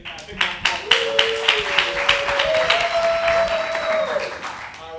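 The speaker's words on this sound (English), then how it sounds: "Let's give her a round of applause." Audience applause and clapping for two volunteers at an improv theatre show, a steady loud burst of hands lasting several seconds with a few cheers over it.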